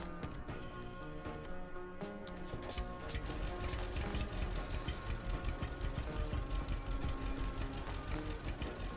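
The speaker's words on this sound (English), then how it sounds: "Alright, let's get this tractor out of here." A tractor engine in the farming video game Farmer's Dynasty 2, a quiet idle that revs up after about two seconds into a steady, rapid knocking chug that continues to the end.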